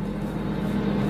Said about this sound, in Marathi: आपल्या विमानाचं इंजिन स्टार्ट झालेलं आहे